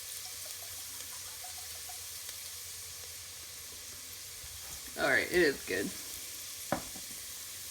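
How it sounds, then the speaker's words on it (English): Onions sizzle gently in a pan while browning for a vegan corn chowder, a soft steady frying hiss under brief speech, followed by a sharp clink near the end. "You want to put the onions in here, and you want them to turn brown."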